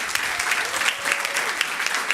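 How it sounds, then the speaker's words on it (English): Steady, loud applause from a city council meeting audience honoring a championship baseball and softball team, continuous dense clapping with no talk. "I'd like to see if we can give one more big round of applause to the CIF Championship,"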